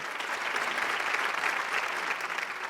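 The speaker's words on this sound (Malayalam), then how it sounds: "നല്ലൊരു കൈയടി" A studio audience at a televised game show claps in steady, sustained applause, dense and even throughout, with no distinct voices on top.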